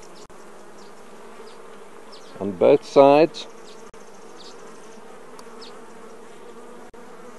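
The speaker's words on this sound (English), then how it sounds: "There you see the bees busy sipping on the honey" Honey bees working over stored honey on comb lifted from a Langstroth hive super, a steady low buzz throughout with a brief louder burst of nearby wingbeats midway; a voice speaks briefly.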